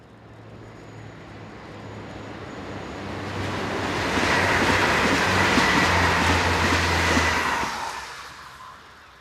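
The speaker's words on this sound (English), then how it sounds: "we see a pair of new diesel units, with number 76711 on the rear, forming the 1623 to Amiens" A new French diesel multiple unit train rumbles past, growing louder as it nears with a rushing roar and rhythmic wheel clatter, then fading quickly.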